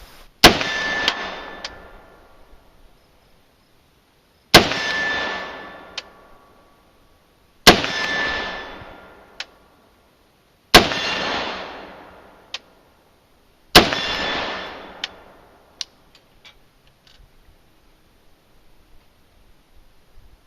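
Five sharp rifle shots from a CMMG Mutant with a 10-inch barrel, evenly spaced about three seconds apart, each a loud crack followed by a ringing metallic decay and brief echo, no talking.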